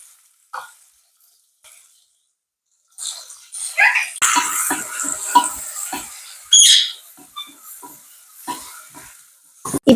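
Onions and tomatoes with a pinch of salt sizzle and get stirred in a pan for a Sri Lankan-style chicken curry, starting after a quiet stretch and then crackling continuously with scraping and clinking close by.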